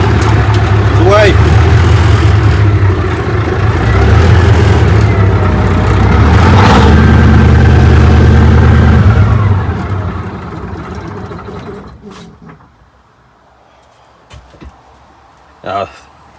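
An old Kenworth C540 diesel truck engine fires up and runs loud and close with a deep throbbing idle, revs, then cuts out into near silence with a few scattered knocks; a voice talks over it.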